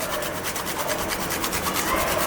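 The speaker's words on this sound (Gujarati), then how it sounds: "જાયફળ છે તો 1 વાટકા દાળમાં અડધું જાયફળ આપણે છીણીને નાખી દેવાનું છે." Whole nutmeg being rasped on a grater into a lentil filling for puran puri, a steady run of close, rhythmic scraping strokes with no talking.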